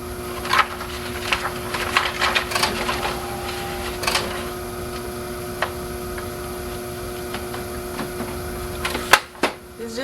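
An old printer runs through its mechanical cycle indoors, giving irregular clicks, ticks and soft clunks over a steady low hum, with a sharper clack near the end and no talking.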